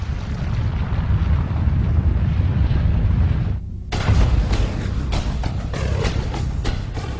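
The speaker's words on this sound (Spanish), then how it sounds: "Las fortísimas explosiones de las supernovas son fascinantes." A dramatic supernova explosion effect from a space documentary: a loud, deep, continuous roar, then a brief dip, then a sudden heavy blast followed by crackling, booming rumble.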